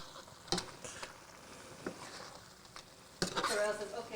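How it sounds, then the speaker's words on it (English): Tomato sauce for anchovy and tuna pasta bubbles and sizzles in a pan while a spoon scrapes and taps through it in a few soft strokes, a voice talking faintly nearby. "I'm just gonna give this a stir."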